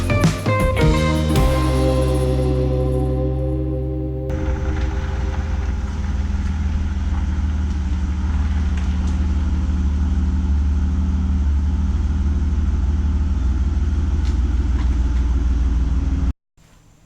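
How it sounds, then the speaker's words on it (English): An Aston Martin's engine rumbles loudly and close as the car pulls into a garage, a deep steady idle with a short rising note at the start, then cutting off abruptly near the end. "So after pulling the car in the garage"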